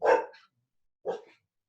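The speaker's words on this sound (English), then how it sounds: "I have excited dogs." Two excited barks from a dog in a home, each a short loud burst with a few yips trailing after it, separated by about half a second of silence.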